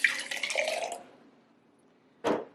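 Purified water poured into jars, a splashing trickle for about a second, then quiet before a short sharp splash or clink near the end.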